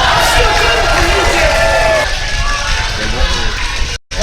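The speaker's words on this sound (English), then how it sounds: "Give a big round of applause." A loud crowd cheers and shouts continuously, a roaring mix of voices and whoops that cuts off abruptly near the end.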